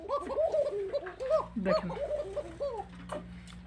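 Arabian coca pigeons, a blue bar pair, coo in repeated throaty, warbling phrases close by, with a faint voice briefly speaking and a steady low hum underneath.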